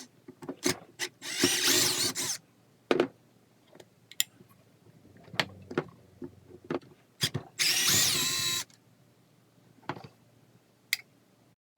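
A power drill backs 25 mm Phillips pan head screws out of the handle of a 7-inch 10 amp variable speed rotary polisher, two loud whirring bursts separated by sharp clicks and small clattering taps in a quiet room.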